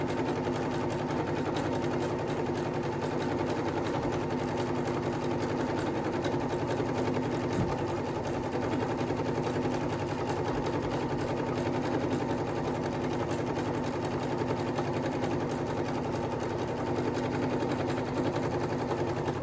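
A sewing machine runs a long gathering stitch along the ruffle of a summer halter maxi dress, whirring steadily and quietly without a break for almost twenty seconds.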